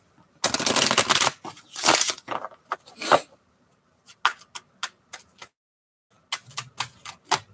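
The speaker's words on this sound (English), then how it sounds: "One more shuffle" A deck of tarot cards is riffled and shuffled in quick crisp bursts, followed by scattered light taps and flicks with short gaps between.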